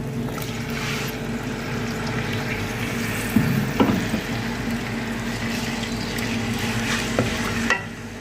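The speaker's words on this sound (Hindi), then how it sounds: "बस इस मसाले को हम अच्छी तरह फ्राई करेंगे।" Masala with chilies and tomatoes fries in a pot with a steady, close sizzle, while occasional stirring scrapes and clinks come through on top.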